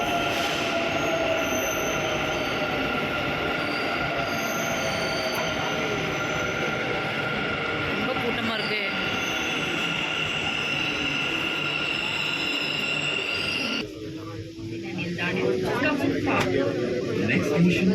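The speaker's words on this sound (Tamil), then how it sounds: "ட்ரெயின் வந்துச்சு." Bangalore metro train pulling into a station, a steady loud rumble of wheels and rail noise with long squealing tones, ending in a sudden drop as it halts and the platform ambience takes over; voices are faint in the background.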